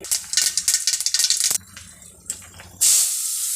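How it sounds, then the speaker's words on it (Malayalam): Mustard seeds pop in hot oil in a pan, with a close burst of rapid crackling snaps that gives way to a softer sputter and then a steady, loud hiss. "കടുക് ഒന്ന് പൊട്ടട്ടെ."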